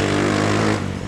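A motorcycle engine with diesel oil added to its exhaust revs hard and close, a loud, rough roar that eases slightly at the end.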